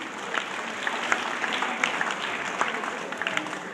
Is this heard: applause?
yes